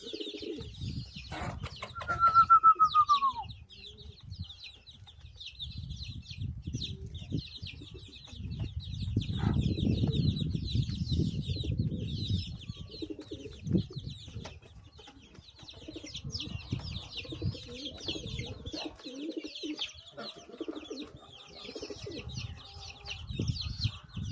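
Soft, low cooing of several homing pigeons repeating in bouts, with small birds chirping in the background and occasional rustling, fairly close and steady.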